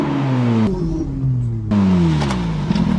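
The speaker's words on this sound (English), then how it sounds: "This is one thing about this model of car. It has a really crazy exhaust" A sports car with a very loud exhaust accelerates hard, its engine note climbing through the gears with a brief gap at a shift, close and loud with no talking.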